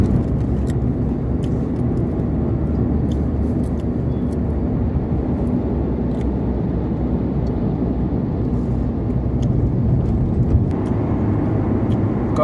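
A Toyota Corolla cruising at steady speed on the Sukkur–Multan motorway in traffic, with a continuous, even engine and road rumble heard from inside the cabin and no breaks.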